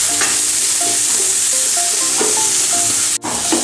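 Tomato sizzling and frying in a pan with onion and ginger-garlic paste for a Kongu-style kudal kuzhambu, a steady broadband hiss with repeated spoon-stirring scrapes and clinks, close and fairly loud, no talking.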